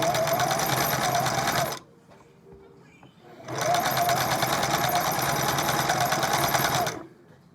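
A Singer Merritt sewing machine, long unused, runs steadily with a rattling, knocking internal mechanical clatter, stops for under two seconds, then starts again and runs loud for several more seconds.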